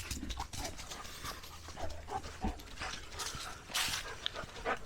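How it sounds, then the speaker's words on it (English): A hunting dog pants steadily and snuffles close by in the woods while tracking a blood trail, breathy rhythmic huffs with occasional sharper sniffs and brushing noises around it. "I'm gonna take my dog"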